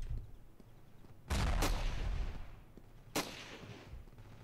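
Gunfire in the Ravenfield video game: two loud, sharp shots with a brief burst between them, cracking out over quiet background ambience.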